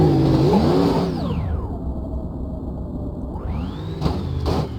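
A turbocharged car engine in the video game BeamNG.Drive revs up and down in loud, sweeping pitch climbs and drops, with a whirring turbo tone rising alongside the engine.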